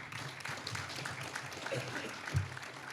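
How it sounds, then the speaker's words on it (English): An audience applauds Dr. Laurie Breslin at a Manatee Tiger Bay gathering, steady clapping spreading across the room at moderate distance with a brief louder burst near the end. "Breslin another round of applause."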